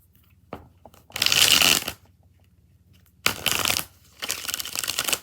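Tarot cards are shuffled up close in three bursts of rapid riffling and sliding, the first about a second long, then two more back to back after a pause, with quiet gaps between.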